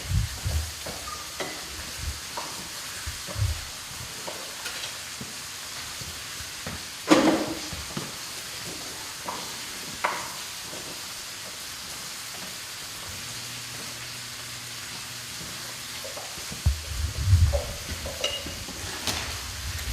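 Diagonally sliced peeled carrots are tossed and stirred in a pan, giving a soft steady sizzle-like rustle with occasional clinks and scrapes of utensil against the pan, no talking.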